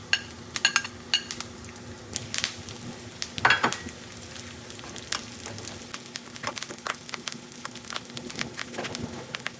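Curry leaves dropped into hot oil for a rasam tempering, a crackling patter of sharp pops and spits scattered over a low sizzle, close and fairly quiet.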